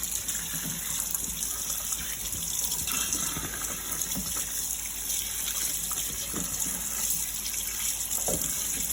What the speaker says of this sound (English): Now, we're washing our vegetables.